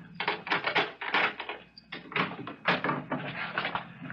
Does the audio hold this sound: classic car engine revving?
no